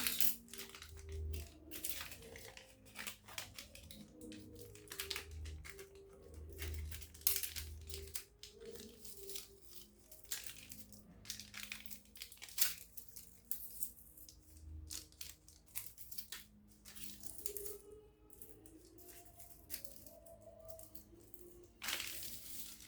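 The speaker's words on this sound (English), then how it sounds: "I'm going in with a scissors to cut it off" Crisp snipping and crinkling of taped paper cut with scissors, close up, in scattered bursts with brief pauses between cuts.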